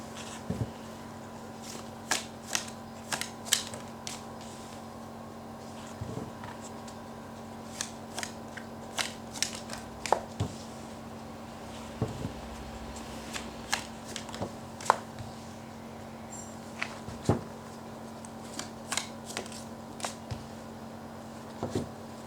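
Tarot cards being shuffled and handled for a reading, soft papery riffles and sharp flicks and taps scattered irregularly over a quiet room, with a faint steady hum beneath.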